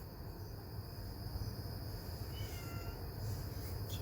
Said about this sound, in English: Please save her meows until the end.